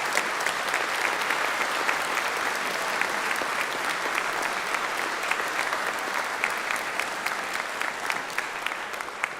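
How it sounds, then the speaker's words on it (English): Steady, dense applause from a large convention hall audience at a fan event, sustained for several seconds with no talk over it and a constant, fairly loud level throughout. "big applause for our guest of honors"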